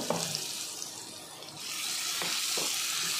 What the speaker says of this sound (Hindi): अच्छे से सौते करेंगे, डालेंगे चॉप अनियन